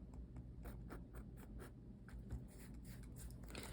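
Hand-written notes on paper for celestial navigation star calculations, a faint, steady scratch of pen strokes with short repeated bursts over a constant low background hum.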